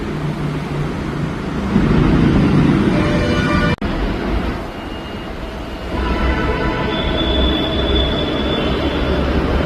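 A metro train rumbles in, its steady mechanical roar and faint wheel whine filling the space, with a brief sharp click partway through.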